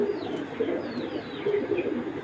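Racing pigeons coo softly and repeatedly, low throaty burbles overlapping in a steady murmur, close by, with a faint high hiss behind them.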